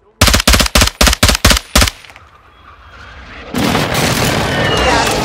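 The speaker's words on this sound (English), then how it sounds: "Precision airstrike inbound." Seven loud, evenly spaced blasts open a Call of Duty: Modern Warfare II precision airstrike, then a quieter lull gives way to a rising rumble of debris and distant gunfire.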